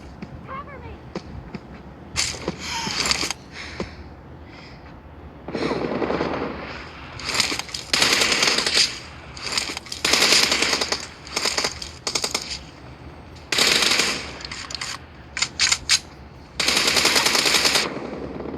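Rapid automatic gunfire in the video game PUBG, repeated loud bursts of rattling shots separated by short pauses, sounding close and dominant throughout.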